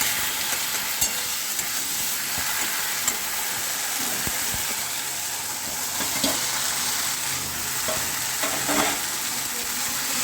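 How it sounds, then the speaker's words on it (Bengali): Colocasia greens are stirred and fried with fried fish heads in a pan, giving a continuous sizzle with scattered scrapes and clinks from the stirring, and no talk. "ভালোভাবে নাড়াচাড়া করে নিয়ে মাছের মাথার সঙ্গে শাকটাকে মিশিয়ে নেবে"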